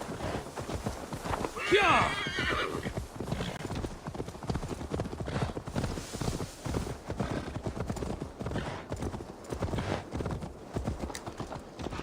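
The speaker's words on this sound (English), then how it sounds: "Deliver Magni his horse." Horse hooves clip-clop steadily throughout in Assassin's Creed Valhalla, with a brief whinny near the start, under continuous speech and game ambience.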